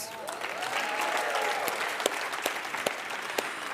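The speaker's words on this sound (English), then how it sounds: "And can we give a round of applause to all our superheroes?" An audience at a United Nations awards ceremony claps continuously, moderately loud, with a few sharper individual claps and cheers on top and a faint tonal sound underneath.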